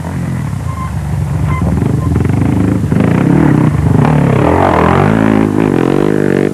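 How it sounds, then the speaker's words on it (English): A single-cylinder KTM rally motorcycle at the 2003 Dakar roars loudly and continuously, its engine note rising and shifting as it revs through the gears. "Now he's on a single cylinder KTM, not a V-twin."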